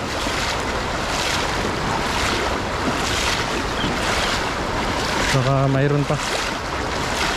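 Strong current rushing through a small flooded river, a steady broadband wash of churning water near the microphone with wind buffeting, and a brief voice speaking over it.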